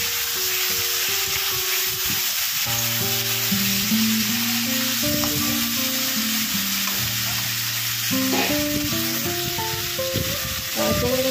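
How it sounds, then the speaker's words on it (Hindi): Prawns coated in salt and turmeric frying in hot oil, a steady loud sizzle and crackle throughout, with faint stirring scrapes over it and no voices. "चिंगड़ीटा को मुझे भल भाव में भाजी नेबी"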